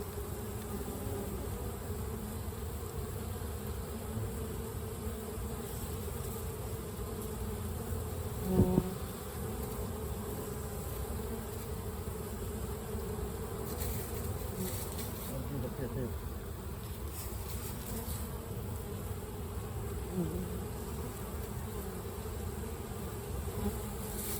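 Bees hum in a steady, dense drone around a beehive during a hive inspection, the buzzing continuous and close for the whole stretch, with a few faint knocks and no talking.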